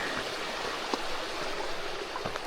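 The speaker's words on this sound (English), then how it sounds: "Sat here by the stream" A stream flows steadily beside a resting spot on the Cambrian Way in Wales, a continuous broadband rush of water with faint trickles and drips, close and even, with no voices.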